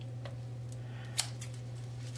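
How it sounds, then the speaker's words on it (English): Kitchen scissors snip fat from raw chicken, a few faint clicks and one sharper cut, heard over a steady low electrical hum. "I reach in with my scissors"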